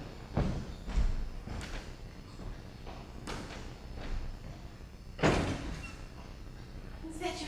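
Heavy, repeated thuds of a fist banging on a door in a staged drama, about six loud blows coming at irregular gaps, with a faint voice in the background.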